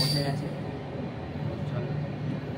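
Vistadome tourist express train rolling into Sevoke station on the NJP to Alipurduar line, a steady continuous rumble and hum from inside the carriage with a faint hiss, with no clear separate sounds.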